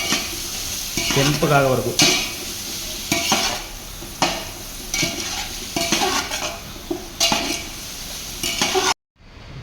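Biryani ingredients being roasted and stirred in a pan, with steady sizzling and repeated scraping stirs throughout, a brief burst of speech partway through, ending abruptly in silence.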